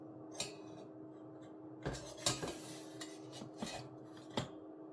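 A spoon stirs a lemongrass soap mixture in a container, scraping and clinking in scattered, uneven knocks against the sides, quiet and close over low background hum.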